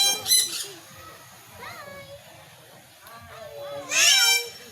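A parrot gives short squawks and whistling calls, loudest at the start and near the end, while people talk nearby.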